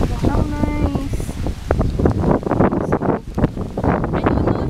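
Gusty wind buffets the microphone in low rumbling bursts, mixed with voices talking and a brief tonal sound near the start.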